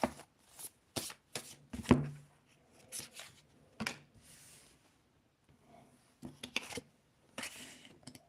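Tarot cards being shuffled at close range in a quiet room, a series of sharp riffling bursts and soft flicks separated by short pauses.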